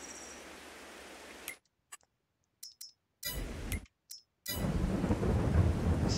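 Rain and thunder from the Farming Simulator 22 video game, a steady hiss of rain that cuts out abruptly into silence broken by brief clicks, then returns heavier and rumbling, with no talking.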